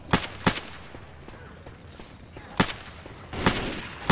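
Gunfire in a zombie video game, a custom Left 4 Dead–style campaign: sharp single shots crack at intervals, loud and close, with quieter game ambience between them.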